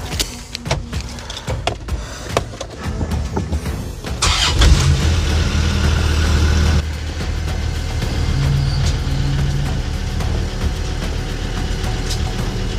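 A truck's engine cranks over and fires into a steady idle, following a few knocks and rattles, with the vehicle parked up on old ramps in a workshop; the engine runs loud and close for the remainder.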